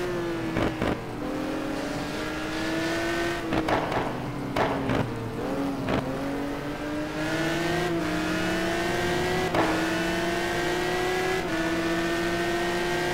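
A Ferrari GT1 race car accelerates hard along the Suzuka straight, its engine rising in pitch through several gear changes with sharp shift breaks, loud and close, with no talk.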